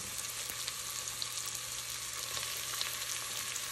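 Sautéed chicken pieces frying in a pan for chicken adobo, a dense, even sizzle that hisses continuously at close range with no talking.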